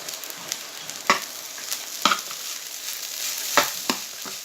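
Rice and garden peas being stirred in a frying pan, with a soft steady sizzle and a few sharp scraping clicks of the spoon against the pan, up close and without speech.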